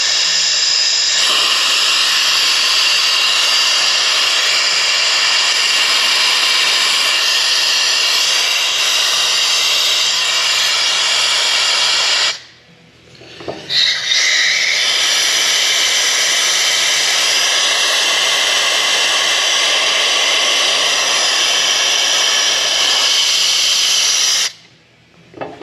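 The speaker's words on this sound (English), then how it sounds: "I'm going to blow some air and then check with my fingers" Compressed air blasts steadily through the cooling passages of an air-cooled Porsche 911 engine as a loud, continuous hiss, cut off once midway for about a second before resuming, then stopping briefly near the end.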